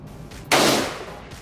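A single loud shot from a Mossberg Shockwave fired outdoors cracks sharply nearby, then fades in a brief rolling echo.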